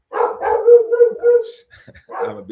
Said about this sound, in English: your dog is trying to get involved in the conversation there.